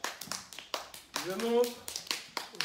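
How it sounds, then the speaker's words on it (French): Children in a classroom clap in quick bursts of sharp, close taps, with a voice speaking briefly in the middle of the clapping. "On l'applaudit, s'il vous plaît."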